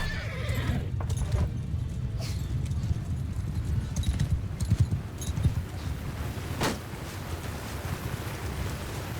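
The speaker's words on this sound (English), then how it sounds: "Their horse may charge me, but at least the water will slow them down" Horses neigh and gallop across a battlefield in the video game Mount & Blade II Bannerlord, hooves clattering steadily beneath repeated whinnies amid a dense, continuous din of combat.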